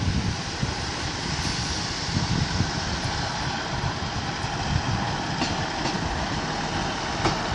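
A Class 150 diesel train passes through York station, giving a loud, steady rumble of engine and wheels that fills the whole stretch with no break.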